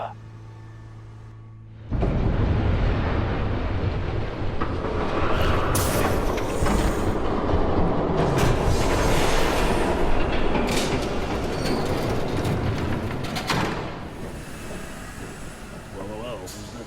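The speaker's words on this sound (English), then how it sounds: "There's a train coming." A train rushes past in the Batman: The Telltale Series game, a loud sustained rumble of rail wheels with clatter and occasional squeals that swells after a quiet start, with speech over part of it.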